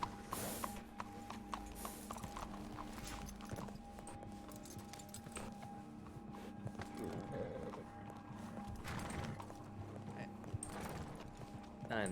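Horse hooves clip-clopping at a walk in the video game Red Dead Redemption 2 (RedM), a quiet, steady gait under a low background hum with occasional faint voices.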